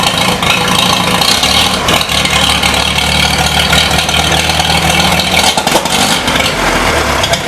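A 1953 Super H tractor engine idles with a loud, steady, slightly uneven rumble, heard up close without talk.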